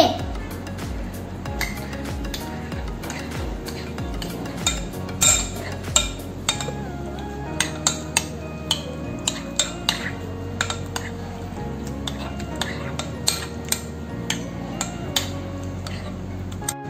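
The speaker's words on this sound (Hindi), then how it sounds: "अब हम इसको मिक्स करेंगे।" Bhelpuri being stirred with salt in a bowl, a steady run of close clinks, taps and scrapes from a spoon against the bowl, with music playing underneath.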